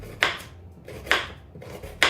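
Three crisp knife chops through carrots on a cutting board, evenly spaced about a second apart, close and clear with no talking.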